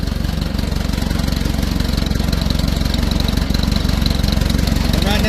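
A 1957 Ford 660 truck engine idles steadily close by at 650 RPM, a low rhythmic chugging throb that holds an even pace throughout.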